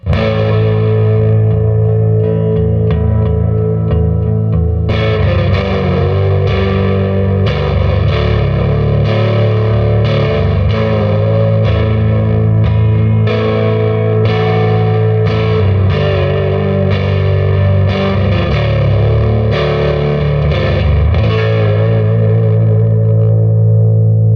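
Sustained Fender Japan Jazzmaster electric guitar chords through an amp with spring reverb, heavy distortion and lush reverb, strummed in a steady rhythm, loud and alone with no talking.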